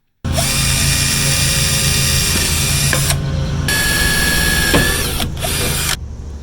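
A power drill whirs loudly and steadily up close while driving a screw into the rear bumper of a 2011 Toyota Prius, the motor holding a continuous drone with a couple of brief pitch changes before it stops.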